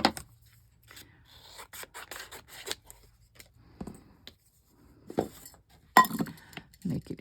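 Sharp scissors or a pointed cutting tool working around a journal page, giving faint scattered snips, scrapes and clinks with quiet gaps between them.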